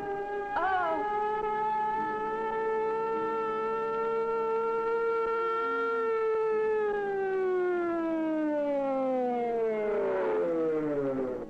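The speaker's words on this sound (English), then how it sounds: "Here's the ambulance." A loud wailing ambulance siren from 1967 with a steady high tone that slowly glides downward, rising briefly at the start, as the ambulance passes close by.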